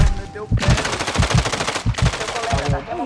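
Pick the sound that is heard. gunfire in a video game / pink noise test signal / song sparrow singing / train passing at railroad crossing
gunfire in a video game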